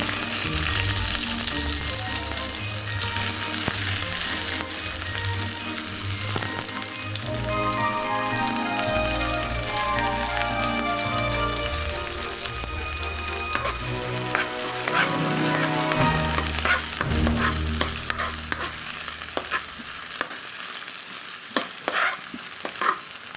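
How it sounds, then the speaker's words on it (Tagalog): Onion sautés in hot oil in a pan, giving a continuous crackling sizzle with scattered sharp pops, fairly close and steady throughout, with no talking. "Una kong igigisa ay onion."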